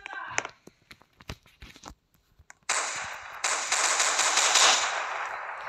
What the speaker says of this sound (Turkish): Ve ondan sonra hoca bir silah sesi duyar ve sesin nereden duyduğunu sorar.